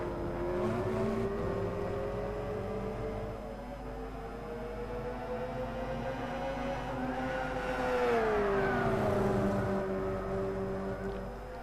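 Engines of a Subaru BRZ and a Lexus GT300 race car in a racing video game drone and whine steadily, pitch sliding up and down as they shift and corner.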